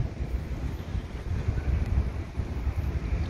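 Wind buffets the microphone at a busy fish port market, a constant low roar with gusting rises and no clear voices.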